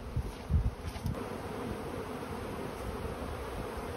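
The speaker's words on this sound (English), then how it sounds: "There's an awful lot of buzzing going on around here." Dense, continuous buzzing of honey bees swarming around the outside of a hive, steady and close throughout, with a few louder passes near the start and no speech.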